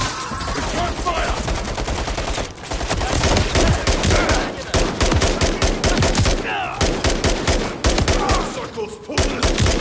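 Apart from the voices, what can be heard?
gunfire in video game Call of Duty Modern Warfare 3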